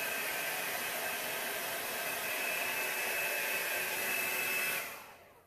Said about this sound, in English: I would hit it with a blow dryer.